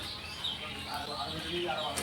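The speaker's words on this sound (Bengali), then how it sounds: "পাখি ডাকছে।" Birds call in a bamboo grove in the village of Gangpur, Hooghly, faint chirps and coos drifting over a low outdoor background in a brief moment.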